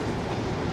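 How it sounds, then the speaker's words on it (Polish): A train passes in Ghost Recon Wildlands, a steady dense rolling rumble of rail wagons that holds evenly through the short moment, with no voices over it. "A tu pociąg jedzie. Widzisz to?"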